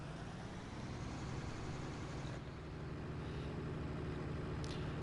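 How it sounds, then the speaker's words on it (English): Tractor engine in the video game Farming Simulator 19 on PS4, a low, steady rumbling drone that holds at an even pace throughout, moderately quiet with no talk over it. "And listen to that tractor. Just wonderful."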